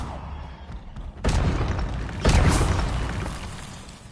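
Confringo explosive spell going off in Hogwarts Legacy: two loud booming blasts about a second apart, the second bigger and trailing off in a long rumble.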